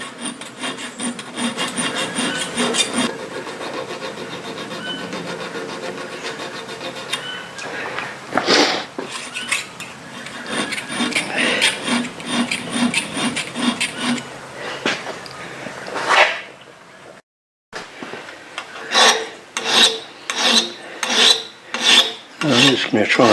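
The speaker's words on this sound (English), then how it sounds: "down to using my needle files again. Slow work, but" A needle file rasps across a cold-forged arrowhead made from a spoon, in close, repetitive strokes that speed up into short rhythmic bursts after a brief silence.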